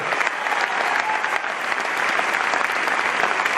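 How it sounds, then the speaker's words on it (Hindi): Sustained audience applause at a business motivational event, a dense, even roar of many people clapping with no talk over it. "आपकी डायमेंडशिप के लिए तालियां बजाइए"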